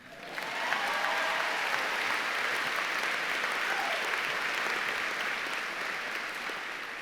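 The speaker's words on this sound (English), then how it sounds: "You can clap." An audience at Ithaca College's commencement ceremony breaks into applause that swells within half a second into a dense, sustained roar of clapping, easing only slightly toward the end.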